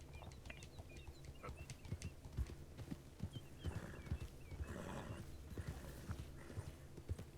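Horse hooves clip-clop at a walking pace in a video game, fairly quiet, with faint bird chirps in the background.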